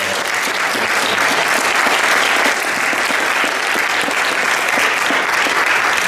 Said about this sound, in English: let's give our panelists a round of applause